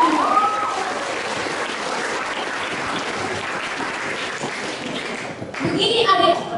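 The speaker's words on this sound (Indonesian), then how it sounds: "Tepuk tangan dulu untuk dia." Audience applause at an academic presentation on a wedding ritual, a loud burst of many hands clapping that holds steady for several seconds, then swells again near the end.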